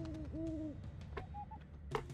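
An owl hoots from a Warcraft III Reforged game, sounding twice in a quick, clear double call, followed by sparse game effects and clicks.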